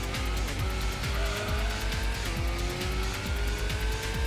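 Race cars in the PS1 game Gran Turismo during a GT World Cup race roar past in a dense, loud stream of revving engines, with a tire squeal and no talking.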